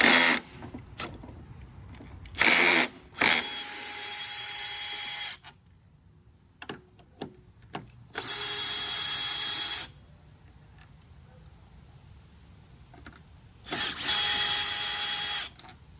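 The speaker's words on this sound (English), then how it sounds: "I always just use the screw gun just because it's just easy for me" A screw gun spins out the headlight bolts on a 2021 Jeep Wrangler in several loud whirring bursts, two short and three longer, separated by quiet pauses with faint clicks.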